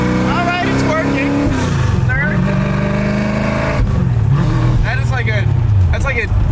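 A 1967 Mustang with a custom shifter driving and changing gears, its engine loud and rumbling as it revs up and drops between shifts, with people talking over it throughout.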